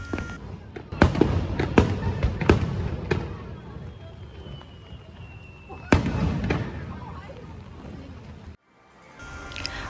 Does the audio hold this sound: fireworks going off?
yes